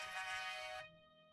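A mobile phone ringtone plays a bright, sustained electronic melody for under a second, then cuts off and leaves a fading tonal tail, fairly quiet with no voices.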